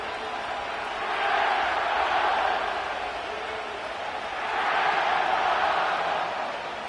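A packed SoFi Stadium crowd in Inglewood roars in an EA Sports NFL video game, a broad continuous rumble of cheering that swells twice, with no other sound above it.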